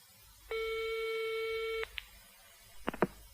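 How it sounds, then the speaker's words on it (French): A telephone call to a travel agency begins with a single steady electronic ring tone just over a second long, followed by a faint click and then a couple of sharp handset clicks as the line is picked up. "La secrétaire d'Éric Blanc téléphone à une agence de voyage."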